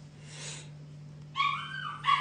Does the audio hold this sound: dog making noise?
yes